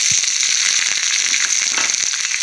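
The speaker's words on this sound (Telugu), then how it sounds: "అవి చిప్పట్లాడితే అందులోకి ఉల్లిపాయలు కూడా పచ్చిమిరపకాయలు కూడా వేసేసుకుంటాను" Chopped onions and green chillies fry in hot oil with popping mustard seeds and urad dal, a loud steady sizzle peppered with small crackles and pops, heard alone.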